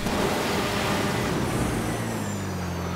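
The Oppressor motorcycle from GTA Online gives off a steady, loud engine drone that holds for the whole stretch and settles into a lower hum near the end.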